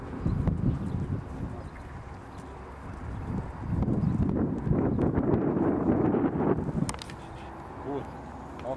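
Hooves of a ridden horse clip-clop on the ground in an irregular series of near, dull thuds, accompanied by wind buffeting the microphone and occasional voices.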